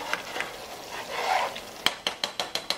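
Thick Nigerian egg stew paste simmering in a pot, stirred with a soft scraping swirl. Then comes a run of six sharp, evenly spaced taps of a utensil against the pot rim, close and crisp, with no talking.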